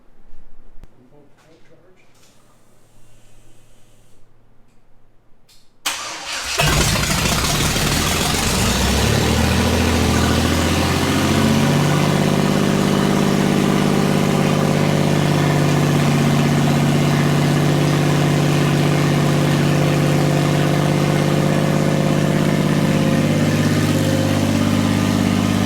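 After a few seconds of quiet fiddling, an engine with no exhaust cranks and roars to life, then settles into a loud, steady, rumbling idle up close.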